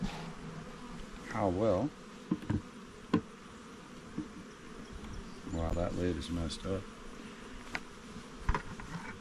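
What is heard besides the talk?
honey bees buzzing at a defensive hive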